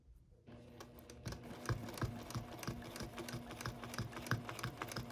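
A sewing machine stitches free-motion quilting against a ruler's straight edge on sashing, a rapid, steady mechanical needle patter starting after a brief quiet moment and running close and continuous throughout.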